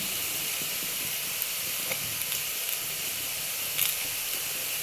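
Garlic, shallots and curry leaves sautéing in a pan for a Malayalam-style fish curry give a steady, moderate frying sizzle and hiss, with a few faint utensil clicks and no talking.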